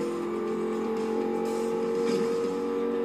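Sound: twin-turbo car engine accelerating, Forza Horizon 2 video game

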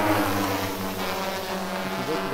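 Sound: DJI Matrice 600 drone starting up for mission

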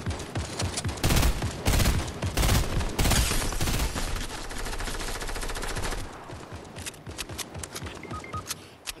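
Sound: gunfire in Fortnite video game

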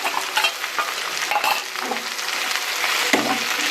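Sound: sautéing ginger, garlic and green chili in pan

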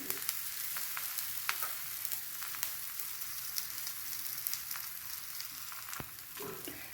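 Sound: talipattu flatbread frying in oil on a pan

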